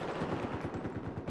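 Dense, continuous gunfire in Battlefield 4, a rapid rattle of automatic shots striking close to the player, loud and steady with no talk over it.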